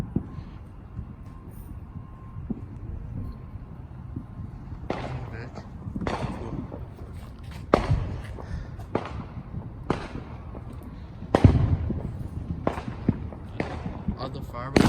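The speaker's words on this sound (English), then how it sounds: "Other fireworks are back." Fourth of July fireworks burst at a house, a series of sharp booms and pops at irregular intervals, some near and loud, others fainter, over a low background with people talking now and then.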